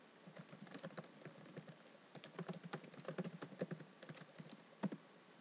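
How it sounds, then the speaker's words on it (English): Quick, steady typing on a computer keyboard, entering a search term on a torrent site, with clustered keystrokes and brief pauses, moderately close and alone. "You could type in the torrent that you want"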